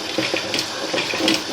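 Water rushes steadily through a sewer pipe line pushed out toward the city sewer, a continuous close splashing flow with faint gurgles and no voices.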